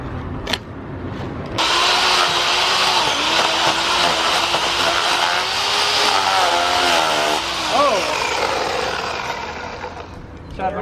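Chainsaw cutting through roots in the ground while digging out at an abandoned 1925 house under restoration, a loud, close, sustained engine drone with shifting pitch as it bites, and voices talking over it.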